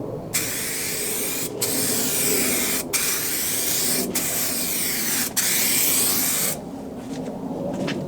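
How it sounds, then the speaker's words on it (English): An aerosol can sprays in several long hissing bursts, each cut by a brief pause, then the hiss drops to softer sputters. "then it's just a normal can after that, and we do the spraying and stuff"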